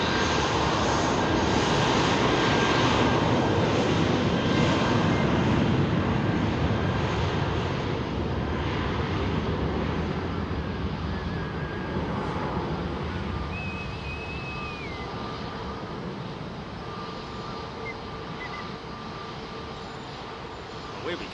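Jet engines of a British Airways eco-liveried airliner at London Heathrow roar loudly and broadband, holding steady for a long stretch before slowly easing off as the aircraft moves away.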